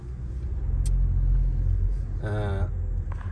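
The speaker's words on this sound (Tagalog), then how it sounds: "Ay nako, traffic na naman dito." Road traffic heard from inside a car stuck in a jam near construction, a steady low engine rumble throughout with a brief passing vehicle sound, close and continuous, while someone speaks briefly.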